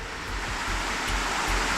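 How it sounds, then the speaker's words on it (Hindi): Fast-flowing mountain stream water near Unakoti in Tripura rushes in a loud, dense, continuous roar, heard alone without any talking. "वो पानी की तेज़ धारा, अगर आप आवाज़ सुने, मैं चुप होता हूँ और आप पानी की आवाज़ सुनिए"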